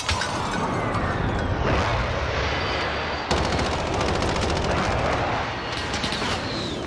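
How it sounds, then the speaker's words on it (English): Airstrike explosions and gunfire in a shooter game, dense rapid machine-gun bursts and crashing blasts layered together, loud and continuous, with a sharp new volley partway through and no talking. "Use my airstrike."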